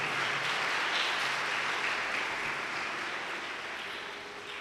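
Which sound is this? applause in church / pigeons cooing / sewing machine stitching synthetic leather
applause in church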